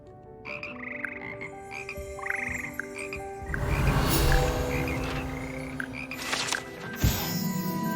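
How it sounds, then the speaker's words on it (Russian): A frog choir in Hogwarts Legacy croaks in layered, musical calls, with repeated rising croaks building into a denser chorus and a sharp knock near the end, with no speech over it. "Здесь восседают скользкие, но вполне симфоничные лягушки, из которых состоит хор лягушек Хогвартса."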